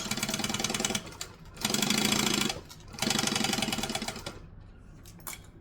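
A sewing machine top stitches a fabric pouch close up, running in three fast, rattling bursts with short pauses between, then a few faint clicks as it stops.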